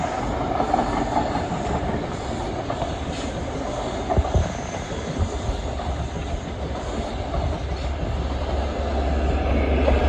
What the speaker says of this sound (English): Here comes an XLNER HST 43320 at the front, probably heading towards the depot